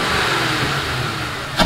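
Engine of a 2004 Mercury Grand Marquis fitted with a high flow air filter, running at a steady idle, loud and close, with a brief sharp burst near the end.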